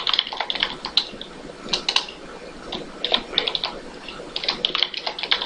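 Rapid clicking of keys on a computer keyboard while code is typed, irregular bursts of close, crisp taps with short pauses, no voices.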